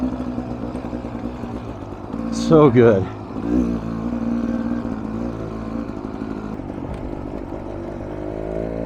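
A Beta Xtrainer two-stroke motorcycle lugs at low revs on a hill climb, a steady low burble with a short louder rise, while a rider briefly speaks over it.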